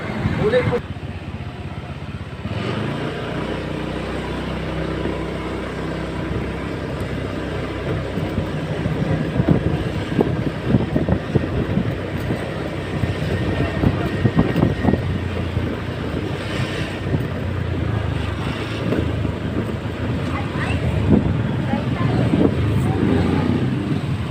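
Motorcycle ride with engine drone and wind rushing past, a continuous moderately loud rumble that builds after a quiet opening and fluctuates throughout.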